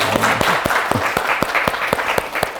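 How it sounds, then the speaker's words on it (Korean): A lecture audience in Sancheong breaks into a brief burst of close, lively hand clapping with a few sharp individual claps standing out. "박수 한번 칩시다"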